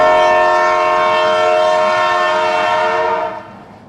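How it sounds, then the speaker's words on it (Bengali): The Silk City Express sounds a long, loud, steady whistle on departure, a sustained horn tone that cuts off after about three and a half seconds. "সিল্ক সিটি এক্সপ্রেসের লম্বা হুইসেল বেজে ওঠে।"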